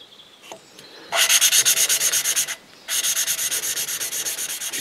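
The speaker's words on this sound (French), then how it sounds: "jusqu'à ce qu'on n'entende plus le bruit de frottement au début là" Engine valves being lapped on a Husqvarna YTH150 riding mower, a close, steady rasping rub in quick back-and-forth strokes, two long bursts separated by a short pause with no talking.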